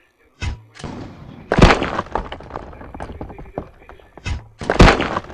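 Several loud crashing thuds and breaking impacts from voxel building destruction in the mobile game Destruction Simulator, with rubble clattering between them and a final heavy crash near the end.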